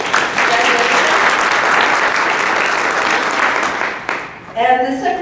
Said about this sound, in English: Janet, stand up and take applause.